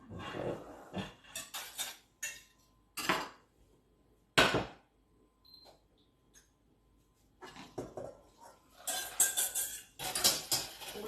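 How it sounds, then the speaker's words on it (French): A whisk scraping and clinking against a metal pot while mixing a thickening coffee-chocolate entremet cream, in irregular bursts of quick metallic strokes with quiet pauses between. "Je mélange avec mon fouet."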